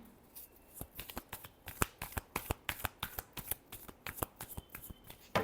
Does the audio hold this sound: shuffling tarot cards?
yes